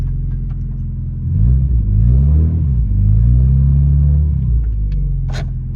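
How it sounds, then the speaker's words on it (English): A Mazda MX-5 engine runs during a handbrake test, a loud, close, steady rumble that swells into a couple of slow pitch rises and falls before easing back. "So the car's running."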